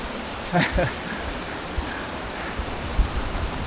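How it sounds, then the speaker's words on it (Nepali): Water flowing beneath a layer of ice gives a steady, broad rushing wash that holds evenly throughout, with a couple of brief muffled bumps near the start. "मुनि चाहिँ पानी बगिरहेछ होइन माथि चाहिँ पुरा आइसको"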